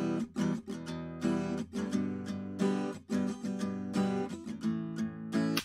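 Acoustic guitar strummed in a rock-style pattern with percussive muted hits and short rests, close and full, with a steady rhythmic pulse and no voices.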